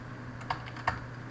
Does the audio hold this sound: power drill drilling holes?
no